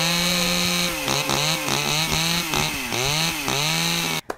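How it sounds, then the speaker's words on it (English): A chainsaw sound effect revs loudly and close, its engine note surging and dipping in rapid repeated bursts before cutting off abruptly at the end. "Chainsaw effect."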